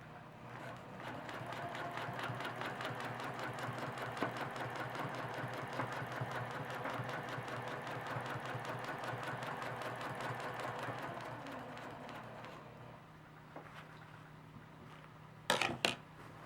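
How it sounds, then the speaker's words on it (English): A sewing machine stitches the center grid work of a quilt with a ruler foot, running steadily and fairly loud for about eleven seconds, then slowing and stopping, with a few faint clicks near the end. "We're now ready to start stitching the center grid work."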